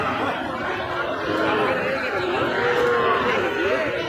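Calves and cattle at a busy new cattle market in Joypurhat, with lowing livestock mixed into a steady wash of crowd chatter and voices throughout.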